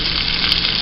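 Meat browns in a pan on a stovetop, giving a close, continuous sizzle and crackle over a brief moment.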